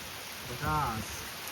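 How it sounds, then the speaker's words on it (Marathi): Heavy monsoon rain pours down steadily in a Konkan village, a dense, even hiss filling the air, with a brief voice rising over it midway. "आता बघा पावसाने परत एकदा जोर धरलाय"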